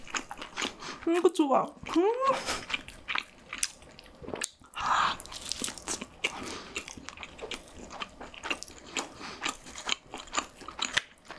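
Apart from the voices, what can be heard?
eating Bistro pizza with sausage from the crust end, biting and chewing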